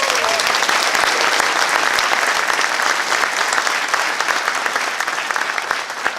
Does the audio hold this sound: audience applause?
yes